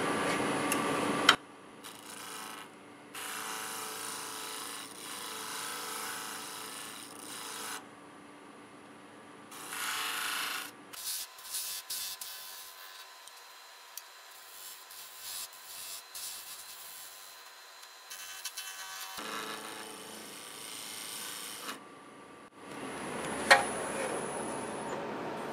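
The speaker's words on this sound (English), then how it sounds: "I'm going to go ahead and clean this up with my negative rake scraper" A negative rake scraper cleans up a wood-turned Christmas ornament on a lathe, giving soft, intermittent scraping and rubbing passes of varying length, with quieter gaps between them and no talk.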